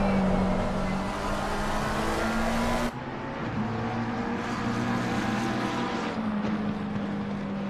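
Porsche GT3 race car engine at Spa-Francorchamps in Assetto Corsa Competizione, a loud sustained high-revving drone with clear gear-change pitch steps and other cars droning alongside.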